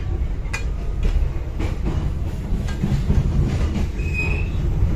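Jayabaya passenger train rolling in an economy new-generation car, a loud low rumble of wheels on track with rhythmic rail clacks and a brief high wheel squeal near the end, heard from inside the carriage.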